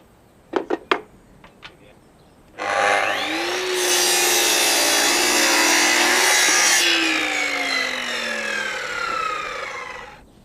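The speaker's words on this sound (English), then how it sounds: "cut a scrap piece of timber, 5 degrees, and transfer that measurement onto the beam" Power saw ripping through a scrap piece of timber at a 5-degree angle, a few knocks first, then a loud close whining cut lasting several seconds as the blade pitch rises and falls before spinning down.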